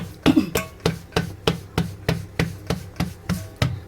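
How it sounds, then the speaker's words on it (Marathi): Hands pat jowar (sorghum) flour dough flat into a bhakri in a home kitchen, making a quick, even run of about a dozen soft, dull slaps, close by and with no talking. "ही अशा प्रकारे थापून घ्यायची भाकरी चांगली"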